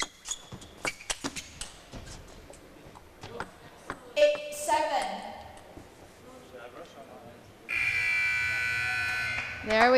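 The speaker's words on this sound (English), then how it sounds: "Buzzer signaling the end of the match." A loud, steady electronic buzzer sounds at the close of a T2 APAC team table tennis match, coming in after scattered ball hits and crowd noise and holding continuously for the last couple of seconds.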